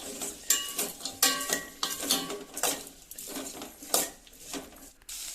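A metal spoon scrapes and clanks repeatedly against a pan as potato and brinjal are stirred, in a brisk irregular rhythm, close by.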